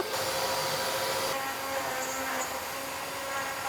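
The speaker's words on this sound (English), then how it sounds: "So I just gotta put on the vacuum and then we start it." A steady, broadband mechanical whir runs throughout, like a vacuum motor droning continuously at close range.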